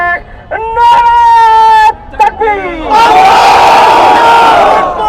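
A large crowd at a rally in Dhaka chants the religious slogan Nara-e-Takbir Allahu Akbar. A single voice calls out in long sustained tones, then many voices roar back loudly in unison.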